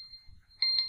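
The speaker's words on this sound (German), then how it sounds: "meine Uhr hat eben geklingelt" A wristwatch alarm gives two short, bright electronic beeps in quick succession near the end of a brief, otherwise quiet moment.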